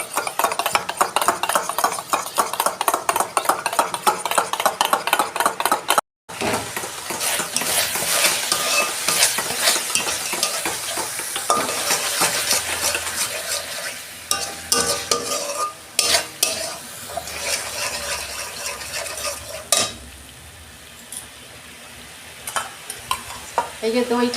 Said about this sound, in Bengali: টক দইটা একটু আমি ফেটতে দিয়ে দেবো।